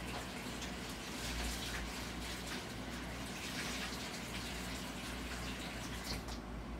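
Clean water poured and splashing over aquarium glass while a 75-gallon tank is being cleaned, a steady close gushing rinse that runs unbroken throughout.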